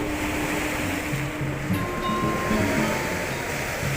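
Ocean surf rolls steadily onto Batu Mejan Beach in Canggu, Bali, a continuous broad wash of breaking waves heard close and fairly loud, with no voices over it.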